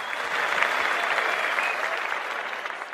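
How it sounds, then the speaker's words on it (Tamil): Crowd at a gathering honouring an education charity breaks into full, even applause, many hands clapping close and loud without pause for the whole stretch, no speech over it. "அந்த கல்வியை இவங்களுக்கு ஏற்படுத்தி கொடுத்த ஆனந்தம் ஃபவுண்டேஷனுக்கு ஒரு மிகப்பெரிய கைத்தட்டல் கொடுத்துடலாம்"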